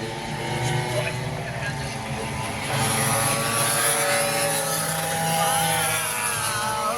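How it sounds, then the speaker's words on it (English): A standard Vespa scooter roars past during a British Scooter Endurance Club endurance race, its engine note loud and steady with a rising buzz, over continuous racetrack engine noise. "Bog standard Vespa there for you."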